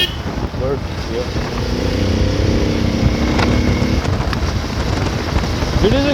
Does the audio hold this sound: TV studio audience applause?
no